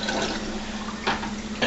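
Juice pours into a homebrew chocolate-covered cherry wine mixture, a steady close liquid splashing and gurgling that swells briefly near the end, with no talk.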